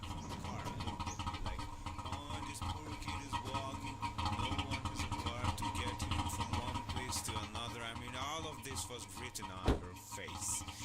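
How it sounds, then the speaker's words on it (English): A car engine drones steadily at a low hum in the horror game Phasmophobia, running throughout under voices talking, with a brief thump near the end. "Damn, that engine sounds a bit deadly."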